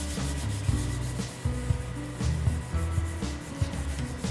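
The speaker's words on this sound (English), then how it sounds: "we will place this sheet down in this corner and rub it really well" A craft sheet being rubbed firmly down onto a card in one corner, giving a close, steady scraping and rubbing texture with repeated strokes throughout, with no talking.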